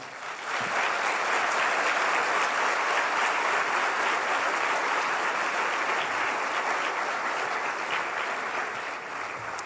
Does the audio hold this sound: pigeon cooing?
no